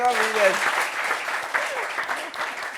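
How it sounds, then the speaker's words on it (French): A studio audience at a French talk show applauds in a full, even burst of many hands, with a voice briefly heard over the start of the clapping. "On applaudit pour elle."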